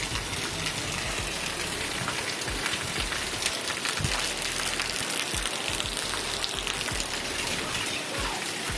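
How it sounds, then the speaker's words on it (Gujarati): Heavy rain pours down steadily outdoors, a dense, continuous hiss of drops striking surfaces at close range that fills the whole stretch with no let-up and no voices. "જો ખતરનાક વરસાદ પડે છે,"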